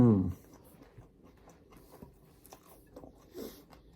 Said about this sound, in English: Crunch of the peppers and the lettuce